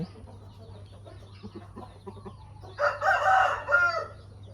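Chickens in a breeding pen on a rice-growing farm: soft low clucks first, then a loud close rooster crow over a steady low hum, with no talking.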